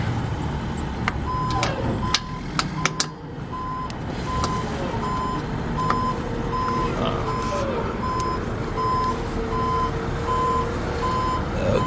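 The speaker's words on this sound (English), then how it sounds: "Okay, trash truck's coming." A garbage truck passing by with its reversing alarm sounding, a steady series of evenly spaced high beeps over rumbling engine noise, with sharp clanks early on.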